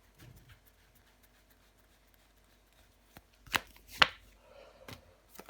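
Tarot cards being shuffled and drawn during a reading, a quiet rustle followed by a few sharp, close card snaps and slaps, with soft handling sounds between them and no talking.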